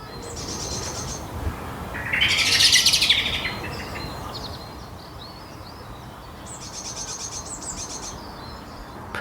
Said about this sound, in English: There's a blackbird clucking as well.